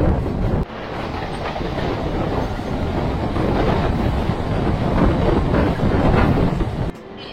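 A moving passenger train bound for Digha rumbles steadily and loudly throughout, with broadband wheel and carriage noise and no talk, easing slightly near the end.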